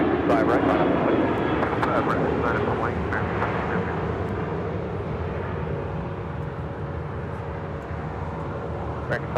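An airliner touches down on the south runway at LAX, a broad jet roar and rumble that is loud at first and then gradually fades, close-range, with radio voices heard over it.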